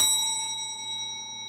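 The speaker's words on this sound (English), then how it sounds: "It is a true hotel bell, and I just think it's lovely." A vintage hotel desk bell struck once, a bright metallic ding that rings out near and loud and then decays slowly with clear overtones, with no talking.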